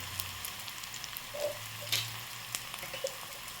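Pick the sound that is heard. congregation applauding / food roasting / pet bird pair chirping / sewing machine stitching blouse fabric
food roasting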